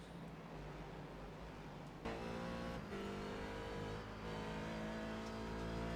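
Ferrari 488 race cars roaring around Suzuka in an IMSA race, a steady loud engine drone with rising revs and a shift in pitch as the pack accelerates, no talking.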